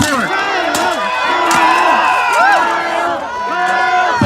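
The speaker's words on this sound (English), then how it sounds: "I'm hearing some Kyle chants out there." Crowd chanting a fighter's name at an armored combat bout, a loud mass of many voices swelling and falling in repeated shouted bursts throughout.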